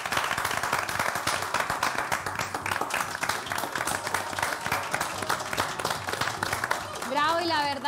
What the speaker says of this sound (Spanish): le rindamos un aplauso hasta el cielo